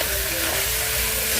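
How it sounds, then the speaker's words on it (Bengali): Potatoes frying in a pan of oil while crab curry is being prepared, giving a steady, close, unbroken sizzle with no voices over it. "আলুটাকেও এখানে দিয়ে ভালো করে ভেজে নেব"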